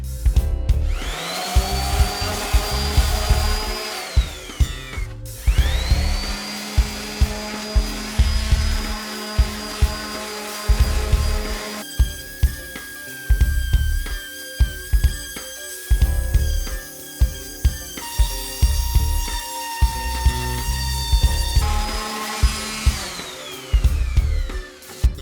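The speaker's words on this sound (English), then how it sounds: "So all I need to do now is just sand it down." A power sander works over a wooden seat for an industrial-style metal chair, running in several long loud passes with brief stops and changes in pitch, close and with no talk.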